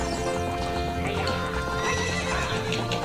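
A horse in The Legend of Zelda: Ocarina of Time neighs and whinnies loudly over steady clip-clopping hooves and game music during a horse race, with a voice briefly heard.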